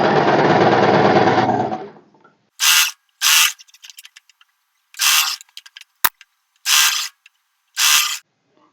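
A sewing machine stitches kurti fabric for a boat-neck A-line kurti, starting with a long continuous whir, then breaking into several short, loud bursts of stitching separated by pauses, close and alone.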